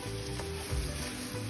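Kangkong (water spinach) sizzling in a small pan, a steady, moderately faint frying hiss with a brief stir near the middle and no talking.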